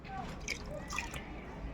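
Water trickles and drips onto soil in a pot, soft and close, with a voice talking faintly alongside.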